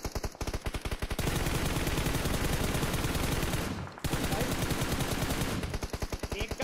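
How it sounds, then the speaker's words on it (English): Rapid automatic gunfire from a mobile battle-royale shooter rattles in near-continuous bursts around apartments, loud and close, with a brief pause before the sustained firing resumes and tapers into separate shots. "I mean literally gunfire everywhere."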